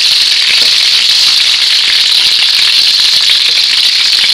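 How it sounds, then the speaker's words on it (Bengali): Hot oil sizzling loudly and steadily over eggplant topped with egg as it fries in a pan, a constant close hiss with no pauses and no talk. "গরম তেলটা আমরা একটু উপরে দিয়ে দেবো। উপরে দিলে উপরে যে কাঁচা ডিমটা আছে সেটা এই মধ্যে ভাজি হয়ে যাবে।"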